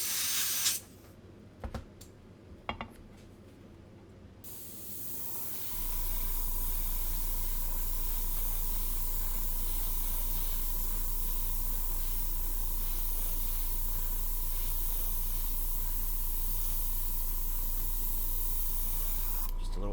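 Paint sprays onto the hood of a scale model car in a steady, close hiss that starts a few seconds in after brief clicks and handling noises, then continues unbroken to the end.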